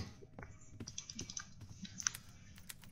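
Fingers typing on a computer keyboard at close range, irregular quick clicks and taps over faint room noise.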